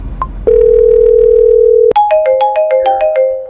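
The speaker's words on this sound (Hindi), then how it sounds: "इतना सुबह सुबह कहाँ फोन लगा रहे हैं?" A telephone call being placed early in the morning: a steady dial tone hums for about a second and a half, then cuts to a repeating ringback pattern of pulsing tones, loud and clear with no talk.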